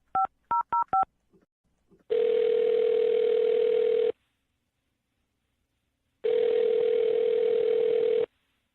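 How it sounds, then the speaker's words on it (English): A telephone dials a number with four quick touch-tone beeps, then after a short pause two long, steady ringback tones sound, a few seconds apart, clear and alone. "I'll dial her phone number right now"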